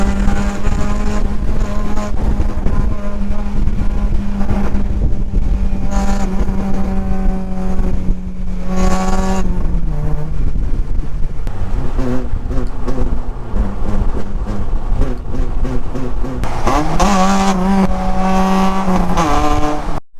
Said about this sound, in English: Okay, so now we know how loud the car is.